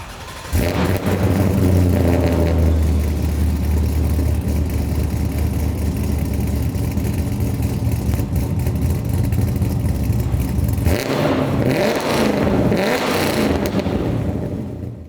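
An LS V8-swapped Toyota 86 accelerates hard in third gear, a loud, close, sustained engine roar that holds steady for most of the stretch before easing off near the end.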